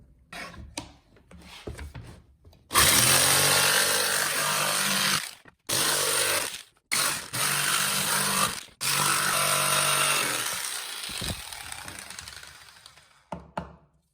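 A power saw cuts out a wooden boomerang, snarling loud and close in long runs broken by brief pauses, with lighter handling knocks at the start and end and no talking.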